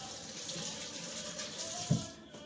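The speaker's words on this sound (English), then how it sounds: "let me give my hands a rinse from the butters" Kitchen tap running while hands are rinsed under it, a steady close splashing and trickling stream with one brief louder knock near the end.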